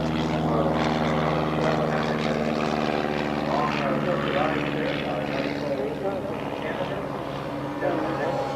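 Propeller mission aircraft engine droning loud and steady at close range with a constant tonal hum, and a voice talking over it.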